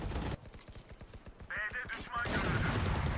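Rapid video game gunfire rattles off in a quick, uneven burst of shots, followed by a louder, sustained stretch of crackling fire, with a voice speaking over it.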